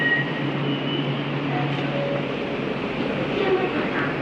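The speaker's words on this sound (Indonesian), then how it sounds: "MRT-nya udah sampai nih" An MRT metro train pulls into a station in Kuala Lumpur, giving a continuous, even rumble and mechanical hum at moderate loudness, with faint tonal whines and no clear talk.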